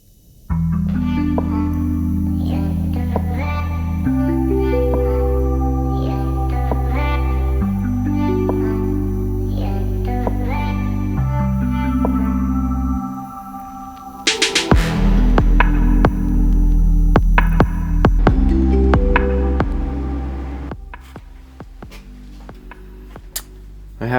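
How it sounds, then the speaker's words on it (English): A metal lathe machining a locating part hums steadily, its drone stepping up and down in pitch several times, then cutting and clattering sounds follow before the motor tone returns. "So I'm going to make that on the lathe now."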